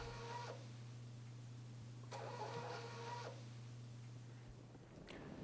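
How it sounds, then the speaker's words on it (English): A thermal printer on a Bio-Rad TC10 automated cell counter prints results in three short whirring bursts over a low, steady electrical hum, fairly quiet and close. "You can also print your results using a thermal printer directly from the instrument."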